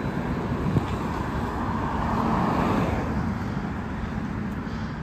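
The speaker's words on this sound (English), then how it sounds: "Let's let this car go by." A car on a suburban street in New Moston, Manchester, passes close by as a steady broadband road rumble that swells gently in the middle and fades, heard outdoors with no talking.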